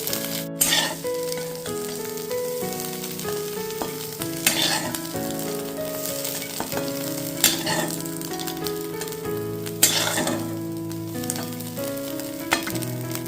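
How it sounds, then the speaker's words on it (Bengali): An egg frying in a pan with steady sizzling, stirring and occasional clinks of a utensil, heard close up with no talking. "ডিমটা আমার ফ্রাই হয়ে গেছে"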